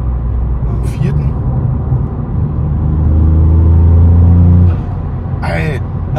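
Ford Fiesta ST Mk8 with a Milltek exhaust and Pipercross intake revving, a deep engine drone that rises and holds before cutting off, heard from inside the car with short bursts of speech.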